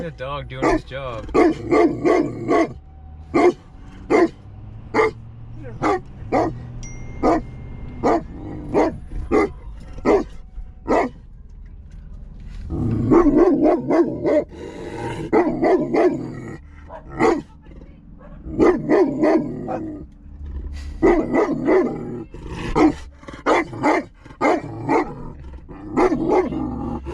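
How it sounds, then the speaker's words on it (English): A dog barks in repeated sharp bursts, loud and close, with short pauses between volleys; the barking continues almost without letup throughout, on a rural homestead lot beside a road. "Look at the dog doing his job."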